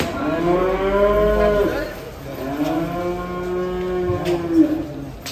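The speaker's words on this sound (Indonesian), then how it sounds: "Ini sapi break impor Australia." An imported Australian Brahman cow at a cattle contest moos twice, loud and close, each call a long drawn low bellow with a short pause between.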